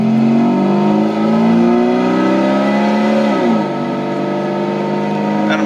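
A 2001 Jeep XJ with a cowl intake roars as it accelerates hard from a standing start, pitch climbing steadily, then dropping at a gear shift before rising again, loud and close.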